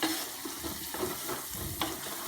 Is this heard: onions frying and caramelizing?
yes